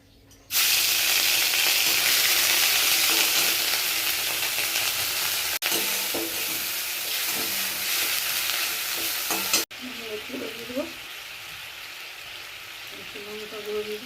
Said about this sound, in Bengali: গোটা জিরে গোটা গরম মশলা লঙ্কা দিয়ে দিলাম।